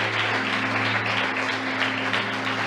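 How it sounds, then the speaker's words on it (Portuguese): Loud, dense applause from a church congregation fills the space for a few seconds, a continuous wash of clapping over a steady low hum. "Dá uma salva de palmas para Jesus."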